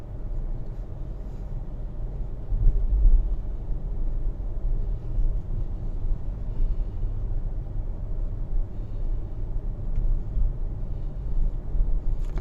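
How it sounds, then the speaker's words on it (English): Steady low hum of air conditioning inside a quiet Mercedes GLA cabin, a faint continuous drone with soft road rumble underneath and no talking. "All you can actually hear is the hum of the air conditioning."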